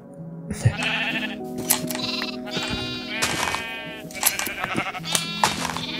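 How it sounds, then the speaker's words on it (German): Purple sheep in Minecraft bleat repeatedly, several overlapping bleats close by, over steady game background music with no talk. "Guck mal, ganz viele lila Schafe."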